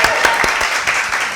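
Brief studio audience applause on a cooking show, a short burst of steady, loud clapping from a small crowd with a few individual hand claps standing out near the start.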